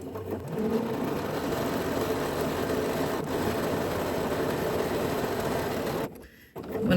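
A sewing machine runs steadily for about six seconds, sewing long gathering stitches along a line on a Loring dress, then stops briefly before starting up again at the end; no one speaks.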